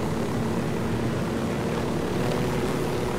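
A helicopter in the video game Ghost Recon Wildlands flies along with a steady, continuous rotor and engine drone. It is loud and close throughout, with no talk over it.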